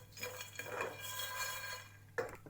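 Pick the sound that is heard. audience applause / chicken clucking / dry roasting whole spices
dry roasting whole spices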